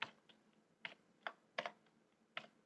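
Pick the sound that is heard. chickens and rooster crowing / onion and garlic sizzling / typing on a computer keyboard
typing on a computer keyboard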